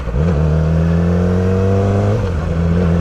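A 2007 Yamaha R6 sport bike engine fitted with a Power Commander 5, held at a steady 3,000 RPM with a smooth continuous drone and a slight dip and recovery in pitch, loud and close.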